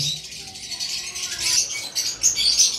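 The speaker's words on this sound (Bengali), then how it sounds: "এখানে যতগুলো পাখি দেখতেছেন প্রত্যেকটা পাখি অনেক ভালো ভালো মিউটেশনের পাখি।" A dense, continuous chatter of lovebirds chirping and twittering close by, many calls overlapping.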